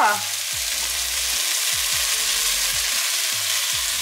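Mushrooms tumble into a hot frying pan and set off a loud, steady sizzle, with a few low clunks of stirring or the pan shifting underneath.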